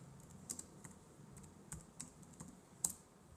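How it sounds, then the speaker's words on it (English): Faint, irregular keystrokes on a computer keyboard tap out a short entry one key at a time, with small pauses between clicks in a quiet room. "I'm going to type in egg whites."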